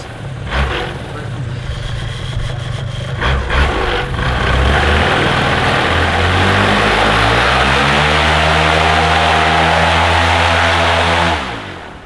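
A Top 80 model aircraft engine held at quarter throttle gives a loud, close, steady buzzing drone that climbs in pitch and holds, then cuts off near the end.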